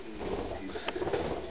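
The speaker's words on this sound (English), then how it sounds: "They're birdies." A pet budgie calls indoors with soft, faint chirps and cooing sounds over about a second and a half. Low background noise is present.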